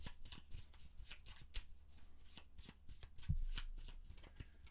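Cards from the Arkham Horror board game are shuffled by hand in a quiet room, a string of quick riffling bursts and soft taps, close and fairly faint.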